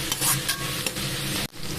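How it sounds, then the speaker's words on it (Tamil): Onions, curry leaves and green chilies sizzle and crackle steadily in a hot pan, close by, with occasional scraping from stirring and no talking. "கருவேப்பிலை பச்சை மிளகா வெங்காயம் வதக்கட்டும்"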